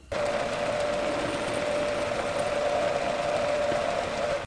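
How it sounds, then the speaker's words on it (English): A steady machine whir and high tonal hum from a lathe spindle drilling bronze with a 7/32 bit, continuous and even throughout, with no voices. "This bronze sure does drill easy."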